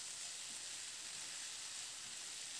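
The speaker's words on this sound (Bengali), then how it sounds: "এবার টমেটোটা দিয়ে আলু ফুলকপির সঙ্গে একটু নাড়াচাড়া করে নেব।" Chopped tomato, potato and cauliflower in a pan give off a steady, even sizzle that holds at a constant level throughout, with no voices.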